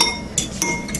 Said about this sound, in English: Add a little bit and whisk.